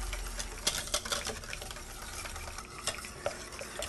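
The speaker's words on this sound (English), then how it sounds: "I'm going to whisk that in while it's still warm, because the heat will melt that jam" A whisk stirs boysenberry jam into a still-warm ice cream base, giving rapid, irregular scraping and tapping against the bowl, close and fairly quiet, with no one speaking.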